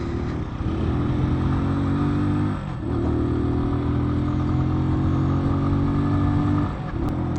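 A Keeway Cafe Racer 152 motorcycle with a CG 125-style engine and timing chain revs up loudly nearby, holding high with two brief dips as the throttle is blipped, no talking over it.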